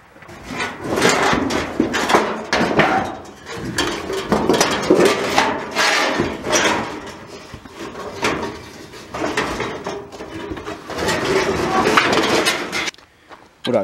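Wooden boards used as snake-hunting cover are dragged and pulled out one after another, giving repeated loud scraping, knocking clatter that lasts throughout.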